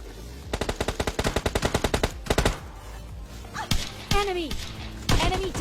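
Automatic weapon fire in the video game PUBG Lite: a rapid burst of about a dozen close, loud shots, a few more, then sharp single reports with ringing tails, under brief background talk.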